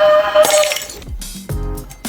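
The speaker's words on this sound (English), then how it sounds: "it is indeed true that sound can actually cause glass to shatter" A pane of glass shatters loudly at close range, a bright crash followed by scattered tinkling shards and a second burst of breaking and falling pieces, with no talking.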